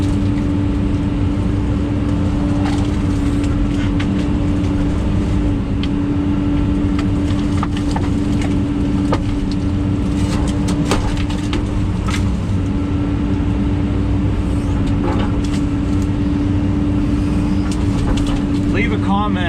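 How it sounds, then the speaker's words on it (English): A truck drives through snow during land clearing, its engine a steady loud drone with a constant hum and a roughness running unbroken from start to finish, close by. "I'll take the truck out, do hood rat stuff."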